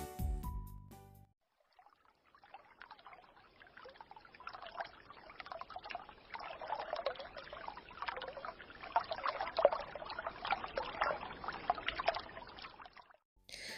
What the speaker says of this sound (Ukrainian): А зараз, малята, послухайте, як співає струмочок.